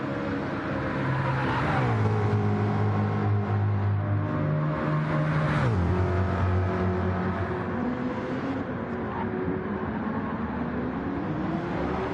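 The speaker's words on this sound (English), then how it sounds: "I love that Mustang, and I love the sound of it. Beautiful V8 burble" Ford Mustang V8 engine in a Gran Turismo Gr.3 race, its deep burble rising through the gears and dropping on a shift, loud and steady with other racing cars droning around it.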